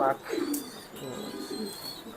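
Racing pigeons give low, rolling coos in a few overlapping phrases, close and moderately loud over a faint steady background.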